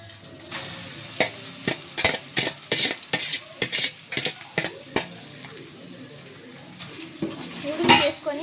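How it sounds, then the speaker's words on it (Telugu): A spoon stirs chicken and noodles in a hot pan over a soft sizzle, with a rhythmic series of close scraping and clinking strokes, then a pause and a few more stirs. "నూడిల్స్ వేసుకొని బాగా కలిపేసుకోవాలి. చికెన్ అంతట్లో వచ్చేయాలి."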